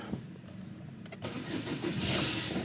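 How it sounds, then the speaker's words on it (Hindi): A 2019 Suzuki Swift with an AMT gearbox and a leaking clutch actuator cable is started: a short starter crank, then the engine catches and settles into a steady, close idle. "गाड़ी स्टार्ट करेंगे अपन।"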